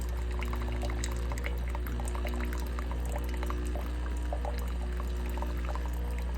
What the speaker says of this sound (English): Okay, it's rinsing the machine.